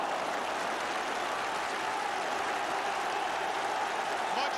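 Huge football crowd at a Rangers v Aberdeen match in 1983, a steady distant roar of cheering and applause filling the stadium without a break.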